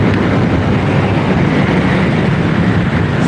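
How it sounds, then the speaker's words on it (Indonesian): A Yamaha Force motorcycle engine runs continuously and loudly up close, a dense steady roar with no pauses or clear revving changes. "suara mesin udah adem"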